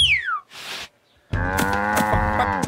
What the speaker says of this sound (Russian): А коровы ваши по всему Простоквашино шастают.